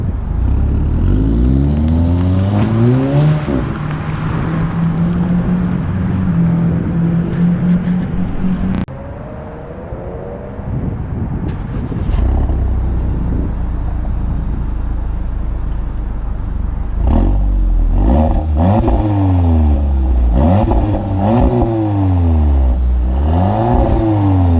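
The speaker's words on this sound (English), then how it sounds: "This car sounds awesome for being a 4-cylinder." An Audi TTS sports car with a four-cylinder engine accelerates hard, revving up through rising gear pulls, easing off briefly, then revving again loudly and close with repeated climbing engine sweeps.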